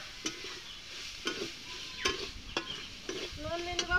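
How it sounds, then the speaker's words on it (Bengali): Soaked, washed chana dal frying in a pan for a Bengali bottle gourd and chana dal dish, with repeated spoon stirs and scrapes over a steady sizzle, close and fairly quiet. "আমি এটুকু ভালোভাবে ভাজিয়ে নেব।"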